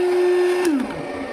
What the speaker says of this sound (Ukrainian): Бачите, фен не перестав працювати, все працює